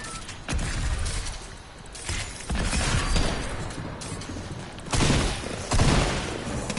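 Loud, dense bursts of rapid gunfire from a shooting video game, coming in several surging volleys close and harsh with brief gaps between them, with no talking over them.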